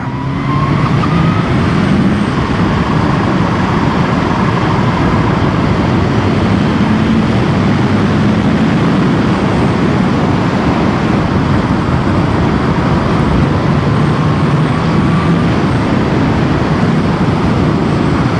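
A Kawasaki Ninja H2 SX sports-touring motorcycle accelerating on the road, its engine a loud, steady drone mixed with wind roar throughout.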